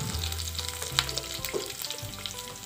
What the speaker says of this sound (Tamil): எண்ணெய் நல்லா காஞ்சதுக்கு அப்புறமா தாளிக்கிறதுக்காக கொஞ்சமா கடுகு, கொஞ்சமா உளுந்து, கொஞ்சம் வெந்தயம், கொஞ்சம் ஜீரகம் சேர்த்தாச்சு